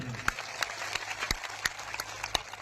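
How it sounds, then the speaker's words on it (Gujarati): Crowd clapping at a Gujarat Jodo public rally in Chhota Udepur district, a steady wash of applause with distinct sharp claps recurring at regular intervals close by. "બધા માટે એકવાર જોરદાર તાળીઓ પાડી લઈએ આપણે"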